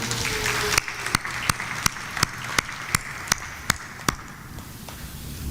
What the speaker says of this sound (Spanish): ¿Qué tal si le damos un aplauso de reconocimiento esta mañana a José, que nos está acompañando esta mañana